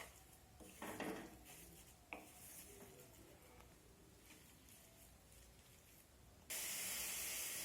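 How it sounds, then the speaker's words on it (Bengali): A utensil scrapes and stirs grated coconut, sugar and milk powder in a pan over a high gas flame. The soft, irregular scraping and clinking are faint, and a loud steady hiss takes over near the end. "যতক্ষণ না চিনিটা গলে যাচ্ছে ততক্ষণ পর্যন্ত আমি হাই ফ্লেমে অনবরত এভাবে নাড়াচাড়া করতে থাকব।"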